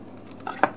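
A knife cuts into a soft, herb-crusted breaded vegan cheese with two short, crisp crunches of the coating close by.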